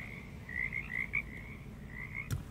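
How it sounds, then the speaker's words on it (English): Frogs croak in a soft, steady trill outdoors on a cold winter evening, a faint repeated chorus over low background rumble, with one brief sharp knock near the end. "guess we'll listen to the frogs while we wait for Mike to come."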